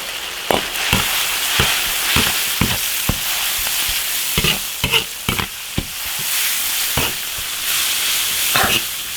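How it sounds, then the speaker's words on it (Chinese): Loud, steady sizzling of pig stomach stir-frying in an iron wok, punctuated by repeated sharp scrapes and clanks of a spatula as food is tossed. "炒香下猪肚爆炒"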